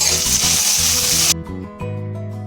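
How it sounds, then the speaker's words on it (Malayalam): Onion, ginger, garlic and green chili sauté in a pan for a mutton curry, giving a loud steady sizzle that cuts off abruptly partway through, leaving only quiet background tones. "ഇനി നമുക്ക് നന്നായിട്ടൊന്ന് വാട്ടിയെടുക്കണേ"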